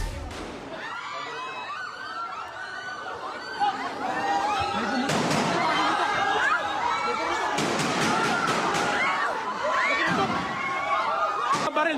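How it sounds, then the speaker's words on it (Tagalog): Series of gunshots outside the Philippine Senate, sharp bangs cracking out one after another amid a clamoring crowd and shouting voices. "narinig ang sunod-sunod na putukan"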